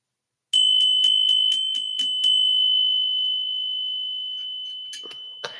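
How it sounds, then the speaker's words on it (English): A small bell is struck once at the start of a tarot reading, giving a clear, sustained ring that slowly fades over several seconds, with light handling noises at the end. "Let's get started by touching the bell for your good fortune and overall well being."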